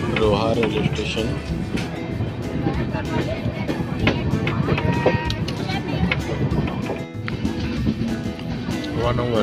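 The Diva–Sawantwadi express at Roha railway station gives a continuous rumbling clatter, with busy platform noise and voices mixed in throughout.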